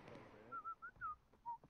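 In the War of Right video game, a short melodic whistle of several brief rising and falling notes sounds faint against low background noise, with no talking over it.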